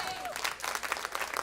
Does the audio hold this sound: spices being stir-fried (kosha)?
no